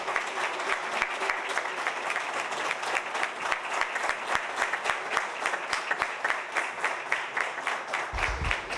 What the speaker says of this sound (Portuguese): quero pedir a todos e a todas aqui do plenário uma salva de palmas